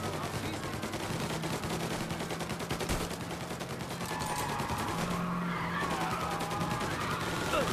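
A car engine roaring with tyres skidding during a chase in Mafia Definitive Edition, continuous engine drone and screeching slides mixed with rapid gunfire, loud and steady throughout, with a voice talking at times.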